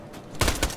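Video game gunfire from Borderlands: The Pre-Sequel, a burst of several loud, rapid shots packed close together that starts abruptly after a quiet, murmuring lead-in.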